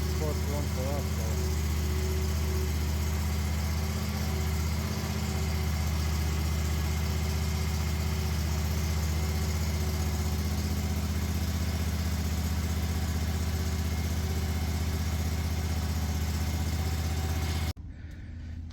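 A new stand-on lawn mower engine idles steadily nearby with a deep constant rumble and hum, someone talking over it, until the engine cuts off near the end.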